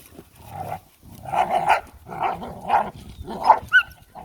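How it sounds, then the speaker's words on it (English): A puppy barks during a scenic move of sheep, giving a series of close, moderately loud yips and barks in uneven bursts with short pauses between them. "You're a very good puppy."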